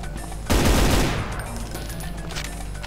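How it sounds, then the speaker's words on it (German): An enemy minigunner in Brutal Doom Eternal (GZDoom) opens up with a sudden loud, sustained burst of rapid machine-gun fire that stays dense and roaring for the rest of the moment. "Ich habe doch gerade Minigunner gehört."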